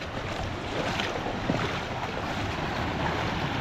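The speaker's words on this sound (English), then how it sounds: "Look at this little waterfall." A small waterfall on Cajon Creek rushes with a steady, close, broadband splashing roar that never lets up.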